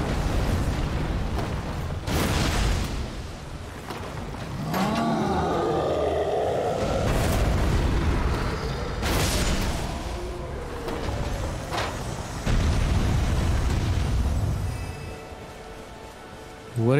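In the video game Elden Ring, a Jar Cannon fires several booming explosions at irregular intervals, loud and close over a continuous rumbling game backdrop.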